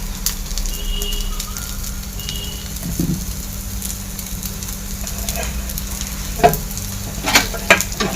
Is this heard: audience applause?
no